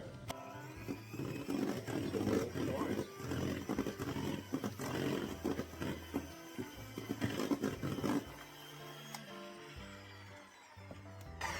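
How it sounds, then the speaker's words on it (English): Electric mixer churning on low speed, a steady mechanical whir with a low droning hum that runs fairly loud and continuous, then drops off and goes quieter toward the end. "I'm just going to mix these on low"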